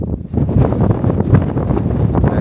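Strong gusting wind in a New York City blizzard buffets the microphone with a loud, continuous low rumble and roar throughout.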